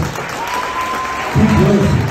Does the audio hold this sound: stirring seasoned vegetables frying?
no